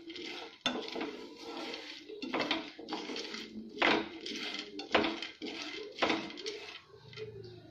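Peanuts are roasted and stirred in a pan over a medium gas flame, with a spoon repeatedly scraping and clattering against the metal in an irregular rhythm. Bursts are close and moderately loud, with a faint sizzle underneath.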